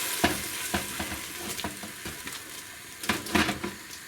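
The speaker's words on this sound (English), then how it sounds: "You continue frying the tomato, the mixture, until you see the oil oozing out." A blended tomato mixture fries in a pot for chicken masala, with continuous sizzling and irregular louder spits and bubbling bursts, close and with no talk.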